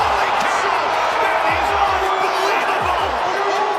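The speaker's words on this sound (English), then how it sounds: "the crowd erupted at the FedEx Forum" Arena crowd roaring and cheering at an NBA basketball game at the FedEx Forum after a dunk, a dense sustained wall of noise with repeated ball bounces thudding through it.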